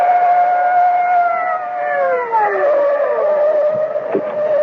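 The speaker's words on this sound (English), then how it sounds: "the blare of police sirens as two patrol cars come hurtling out of the night." Police sirens from two patrol cars wail loudly and steadily, with the overlapping tones gliding downward as the cars sweep past at night. A brief thud sounds near the end, with no talk.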